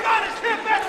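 Wrestling match crowd shouting and cheering in an arena, a continuous roar of many voices swelling in waves across the short moment with no clear talk.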